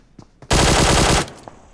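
A single rapid burst of automatic gunfire in PUBG Mobile, lasting under a second, loud and close, with faint clicks before and after.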